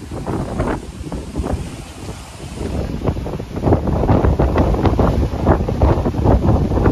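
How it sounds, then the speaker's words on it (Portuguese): Strong wind gusts at Praia das Bruxas beach in Florianópolis, buffeting the microphone with a loud, rumbling roar that swells stronger in the second half. "Estou aqui procurando um lugarzinho sem vento, que não pega muito vento"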